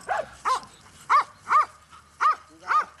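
Hunting dogs bark on a Bulgarian game hunt, six sharp, evenly spaced barks ringing out clearly at close range with no talk over them.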